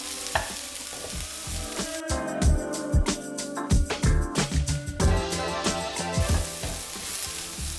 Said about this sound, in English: So we need to cook this for about 5 to 6 minutes until the onions are nice and soft.